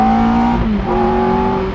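A Ferrari F430 Spider or Lamborghini Gallardo Spyder engine pulls hard out of a corner, a loud, steady rising tone that dips briefly mid-shift and then climbs again, close and with no talking.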